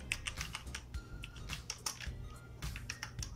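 Someone types a drive label on a computer keyboard in quick, uneven bursts of crisp key clicks, close and fairly quiet, with short pauses between keystrokes and no talking.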